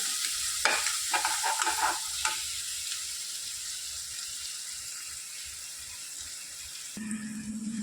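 Onions frying in a pan for dhaba-style sev tomato bhaji, stirred with a few close scraping strokes at first, then a steady loud sizzle that continues alone.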